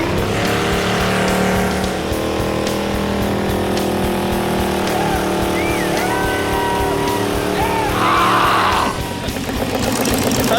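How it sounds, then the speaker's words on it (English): A modified hearse hot rod built as a gravedigger car, its exhaust roaring close and loud in a continuous rumbling drone, with a brief rise in revs near the end. "You see that exhaust?"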